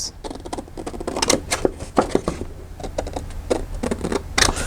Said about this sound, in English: I'm just going to go ahead and cut it with scissors